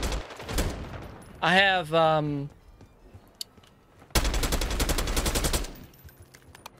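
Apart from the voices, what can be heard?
AK74 rifle gunfire in video game Call of Duty Black Ops 6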